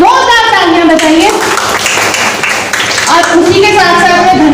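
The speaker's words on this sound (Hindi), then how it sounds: "इसके लिए इनके लिए जोरदार तालियां बजाइए" An audience claps loudly at a Mission Shakti school program at Richie English School, chaired by the principal. A burst of steady applause fills the middle, with voices and tonal sounds before and after it.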